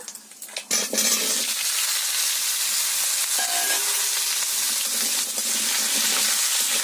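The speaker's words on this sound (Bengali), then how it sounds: "কুমড়োগুলো ভালো করে ভেজে নিতে হবে" Pumpkin pieces fry in hot oil with dried red chilli and five-spice, giving a loud, steady sizzle that starts after a brief clatter and runs on unbroken, with faint utensil scrapes over it.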